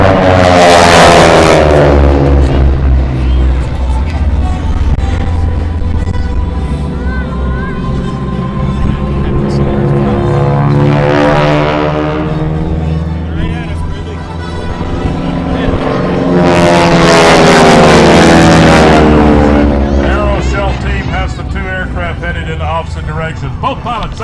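A propeller airplane weighing 6,000 pounds flies through a half-Cuban aerobatic manoeuvre at an air show, its engine roar swelling loud as it passes, fading, then surging again, with an announcer talking over it.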